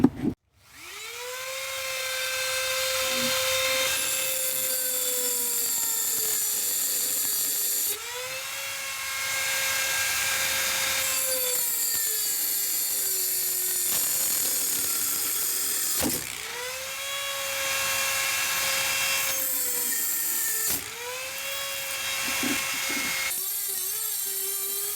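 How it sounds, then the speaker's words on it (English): A Dremel rotary tool whines at high speed while cutting small copper pipes, a loud, sustained shrill tone that dips in pitch under load and pauses briefly between cuts. "let's go ahead and cut these little copper pipes out"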